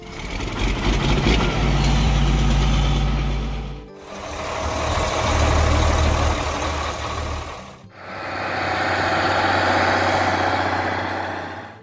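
A John Deere 4650 farm tractor from 1982 idles steadily with a low, even engine rumble, repeated in three continuous stretches split by brief cuts, loud and close with no one talking.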